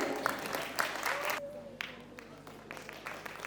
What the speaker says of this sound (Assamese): সকলোৱে এবাৰ জোৰছে হাত চাপৰি দিব লাগে